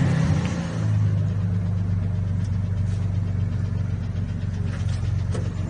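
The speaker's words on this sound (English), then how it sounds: "The tick's still there. Can you hear that?" Rebuilt car engine running steadily at idle with a continuous low rumble, a faint repetitive tick riding on top of the drone, fairly close and without speech.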